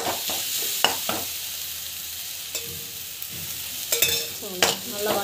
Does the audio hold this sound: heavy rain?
no